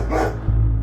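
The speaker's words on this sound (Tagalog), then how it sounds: "napalitan na ng tahol yung alulong" Dog barking at night, replacing earlier howling; a close bark lands in the middle of a steady low hum, with a second sharp bark right at the end.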